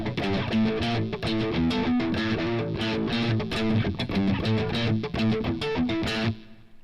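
A bright, distorted electric guitar with a split-coil pickup plays a busy hybrid-picked riff with percussive thumping accents, loud and continuous, then cuts off near the end.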